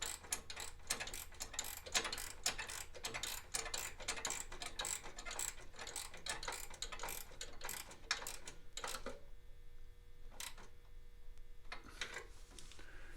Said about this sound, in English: I'm going to keep my finger between the ratchet handle and the side of this frame.